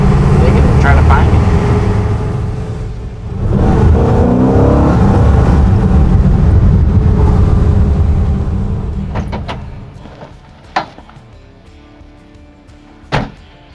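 A 1962 Pontiac Catalina 421 Super Duty drives off, its engine loud and rumbling up close before fading steadily into the distance, followed by a couple of sharp knocks.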